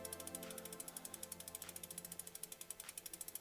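Bicycle freewheel ratcheting as the chain is rolled backward during cleaning and lubing, a rapid, even series of soft clicks that quickens slightly, close and fairly quiet, with no talking.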